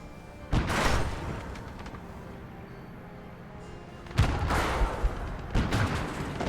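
Artillery and gunfire boom through a Kelly's Heroes video game battle, with a heavy 10.5 cm artillery piece in play: a loud burst near the start, then a quieter rumbling stretch, then several sharp blasts close together near the end.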